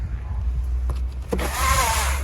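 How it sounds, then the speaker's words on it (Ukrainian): Skoda Octavia trunk luggage cover roller blind being operated, with a couple of soft clicks and then a brief whirring, sliding retraction, close by against a quiet low hum. "Присутня шторка, шторка працює"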